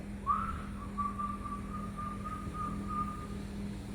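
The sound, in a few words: whistling imitating a child's whistle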